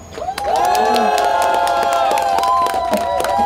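A crowd cheers and shouts loudly at a Korean election campaign rally in Ulsan, with sustained voices and whoops, scattered clapping underneath, filling the whole space.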